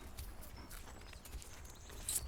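Horse hooves clip-clopping at a steady travelling pace under a rider on a road, with a small dog trotting alongside; soft, fairly distant rhythmic knocks over low rumble.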